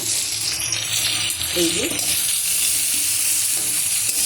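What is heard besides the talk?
ginger and onion frying in a pan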